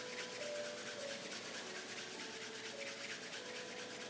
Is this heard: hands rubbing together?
yes